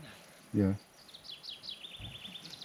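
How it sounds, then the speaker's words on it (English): Crickets chirp at a campsite at night, a faint, steady series of high repeated trills running through most of the moment, with a short burst of speech and a low thump breaking in. "Is that what that noise is? No, it's crickets."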